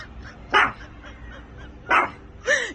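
An angry Pomeranian barks three times in sharp, close bursts, separated by short quiet gaps, with faint whimpering between the barks.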